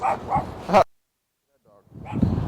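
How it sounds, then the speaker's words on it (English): A dog gives a few short barks and yips at mid distance, separated by a brief silence, with some speech-like sound around them. "there's a dog up there"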